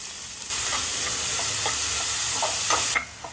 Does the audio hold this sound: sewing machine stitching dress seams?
no